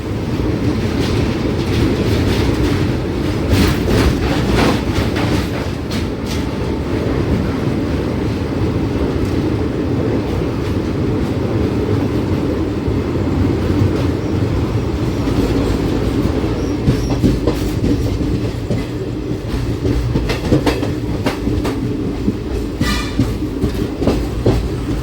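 Train 03429 to Malda Town rolls along the rails with a steady, loud rumble and rhythmic clatter of wheels, brief squeals and clicks over twenty-five seconds, with no one speaking.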